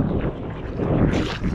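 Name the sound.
wind growing stronger on a beach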